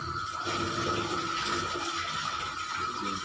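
Water rushing out as it is released in a swimming pool pump room, a steady, continuous loud gush with a hiss that holds for the full length without pause.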